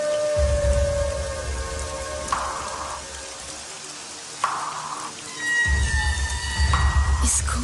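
Steady rain falling in a film scene, a continuous patter with occasional louder drops, easing briefly in the middle before returning fuller, with faint tonal background sounds over it.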